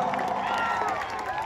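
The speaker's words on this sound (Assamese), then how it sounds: "এটা হাত চাপৰি তাৰ কাৰণে" Crowd clapping and cheering at a live stage show in Changsari, a dense, steady wash of applause from a large audience with a voice carrying over the top.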